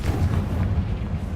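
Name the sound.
Confringo explosive spell blast in a video game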